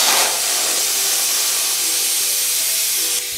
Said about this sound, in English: Place the nozzle of the helium tank into the back of the balloon and then, holding firmly, press down on the nozzle.